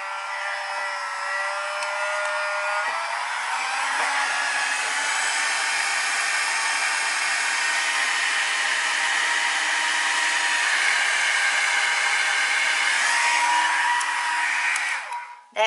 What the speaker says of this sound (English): this hair dryer